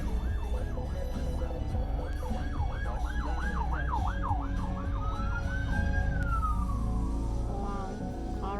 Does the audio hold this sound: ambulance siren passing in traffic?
yes